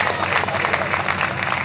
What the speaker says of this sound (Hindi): इसलिए भी आप एक खुशी की जोर से ताली बजाएंगे